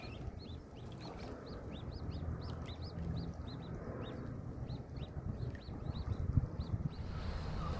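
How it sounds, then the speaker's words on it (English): Three little ducklings peep near a fishing spot, repeated high thin chirps in a steady scattered rhythm over outdoor background noise, fairly faint and close. "Three little duckies watching me fish."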